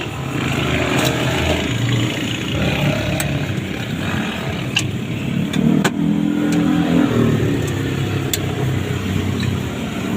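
A car engine with a low-power fault revs in steady rises and falls, loud and close, with a few sharp clicks over the rumble.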